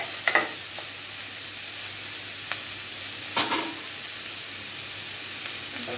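Sliced onions fry in hot oil with chilli powder, green chillies and salt, giving a steady close sizzle broken by a few clinks and stirring knocks.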